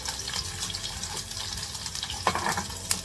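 Sliced garlic fries gently in oil over medium-low heat for aglio e olio, a close, busy crackle and bubbling that runs steadily, with a few brighter clinks near the end.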